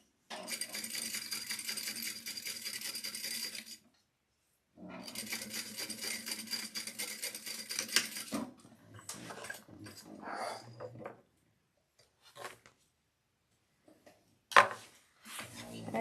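A sewing machine stitches fabric for a crossbody bag in two steady, close runs of rapid mechanical whirring, followed by quieter handling clicks, thumps and a brief voice.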